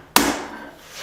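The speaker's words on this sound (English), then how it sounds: "Just use my straight peen right off the side of the anvil." A straight peen hammer strikes steel flat bar on the side of an anvil while forging tongs, one sharp ringing impact that fades quickly.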